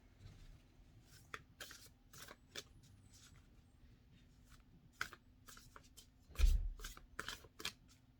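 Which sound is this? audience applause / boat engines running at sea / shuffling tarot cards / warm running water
shuffling tarot cards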